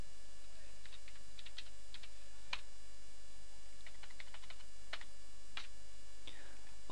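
Light, irregular keystrokes on a computer keyboard, scattered clicks in short bursts over a quiet background hum.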